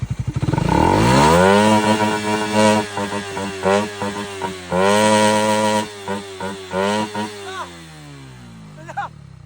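A loud modified Raider Fi motorcycle engine with a ram air intake revs hard several times in bursts, roaring up and dropping back between pulls, very close.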